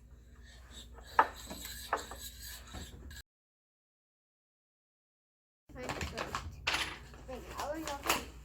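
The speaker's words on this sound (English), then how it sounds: "go ahead and mix again. Mix, mix, mix." Banana zucchini bread batter with canola oil is mixed in a bowl, making soft scraping and rubbing sounds in short bursts. People talk over the mixing, and there is a silent gap in the middle.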